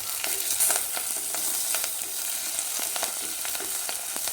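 Dried red chillies cut in pieces and curry leaves crackle in hot oil for a spicy Kerala sardine dish, a close, even sizzle broken by quick scraping stirs.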